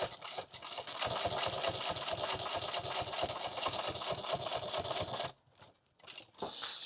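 A sewing machine stitches a leather EDC pouch for a Leatherman in a rapid, even mechanical run of needle strokes, close and loud for about five seconds, then stops briefly before a short final burst.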